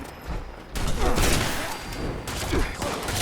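Bursts of automatic gunfire crackle through a Fallout 76 firefight, with several rapid volleys and sharp shots over a busy game soundscape, fairly loud and continuous.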